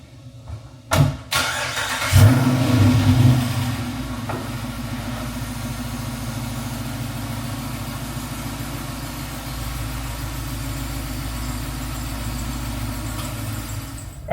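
A 392 Jeep Wrangler engine cranks and catches with a loud burst of revs near the start, then settles into a steady, rumbling idle that continues alone.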